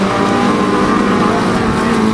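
An autograss race car, Scunthorpe 88 in a class 6 final, roars steadily up the back straight, its loud engine note sustained and continuous with no pauses.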